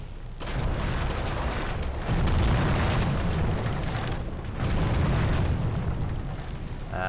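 Heavy naval guns fire and shells burst in a Pacific sea-battle game, a sustained barrage of loud booms that swells in several waves and fades toward the end, with no talking.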